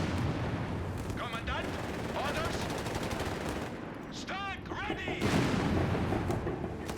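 Gunfire and battle explosions from Company of Heroes 3 World War II combat, a dense, distant-sounding rattle of machine guns and shots beneath a commentator's talk.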